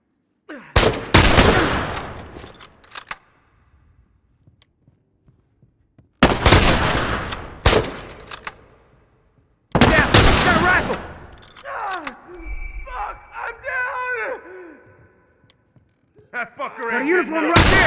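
Rifle gunfire in The Last of Us comes as loud bursts of sharp, echoing shots with quiet gaps between volleys, and voices shout during the later part.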